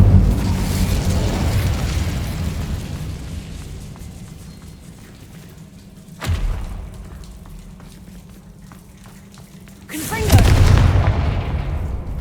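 A fire spell cast in the Hogwarts Legacy video game, heard as two separate whooshing bursts at roughly six and ten seconds, each swelling loudly over a low rumbling ambient bed, with a voice speaking near the start.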